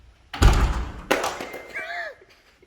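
Two heavy, close thuds of a Mercedes-AMG GT R car door, a second apart, followed by a brief warbling high tone.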